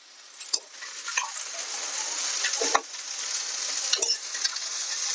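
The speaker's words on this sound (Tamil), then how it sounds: "இந்த பிரண்டை வந்து நல்லா வதங்கணும்." Chopped pirandai (adamant creeper) sautéing in a pan for pickle gives a steady bright sizzle. Scattered scrapes and knocks from a stirring spoon sit over it, close and without voices.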